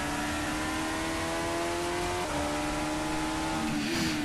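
Race cars in a ChampCar World Series racing game at Long Beach roar steadily downhill, a loud sustained engine drone with shifting harmonic pitch and a brief shift near the middle, no talking.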